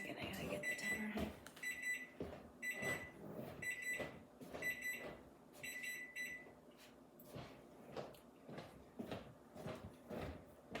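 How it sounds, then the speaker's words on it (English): A kitchen timer sounds repeated bursts of rapid high beeps for several seconds, then stops, followed by softer handling and movement noises in a quiet kitchen. "Just a second, I gotta get the timer."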